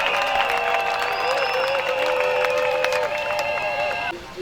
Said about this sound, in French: On peut applaudir notre ami.